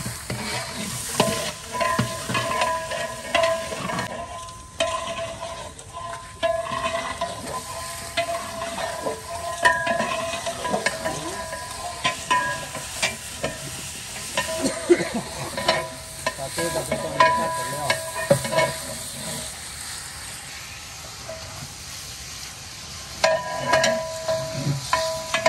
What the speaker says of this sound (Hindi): दोनों देगों में डाल देंगे और 5 मिनट इसको इसमें फ्राई करेंगे अच्छे तरीके से गरम मसाले और प्याज के साथ